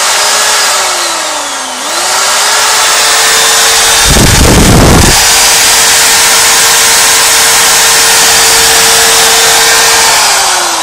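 A permanent magnet alternator spinning at about 1500-2000 rpm gives a loud, steady high-pitched mechanical whine. Near the start the pitch dips briefly, and a short burst of broadband noise cuts in around the middle.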